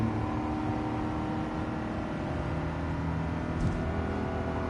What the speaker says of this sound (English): it's better just listen to engine noises. Brum brum.